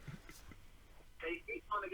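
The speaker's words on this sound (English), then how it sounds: "Oh, it's ringing." Ringing tone of an outgoing call on a new phone, heard as short electronic bursts near the end after a stretch of talk and background noise.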